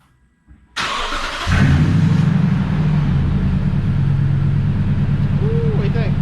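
A Toyota 5.7 iForce V8 truck engine fitted with a Corsa performance exhaust cranks and fires up, then settles into a loud, steady, deep rumbling idle close by.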